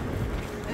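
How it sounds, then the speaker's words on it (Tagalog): Strong wind gusting along the open riverside of the Hudson River on a snowy winter day, a steady low rumbling buffet against the microphone throughout. "Sobrang hangin dito."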